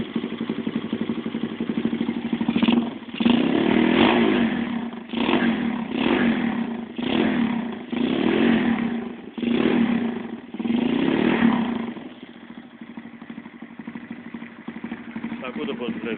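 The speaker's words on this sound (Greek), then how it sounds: "Αυτό είναι το μοτέρ που δουλεύει 62 χιλιοστά, που δουλεύει έτσι" A 62cc moped engine runs and revs in repeated bursts, each rise lasting about a second before dropping back, then settles into a steadier lower drone near the end; a person talks over it.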